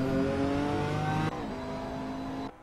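A GT3 race car in a racing sim on a hot lap, its engine loud and sustained with rising harmonics, then a sharp gear change near the midpoint and another drop in pitch just before the end; no voices.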